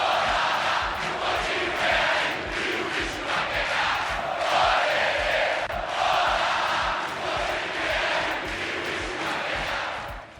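Vasco da Gama supporters roar and chant together in the packed stands of São Januário stadium, a dense crowd din that holds steady throughout with swelling surges of cheering.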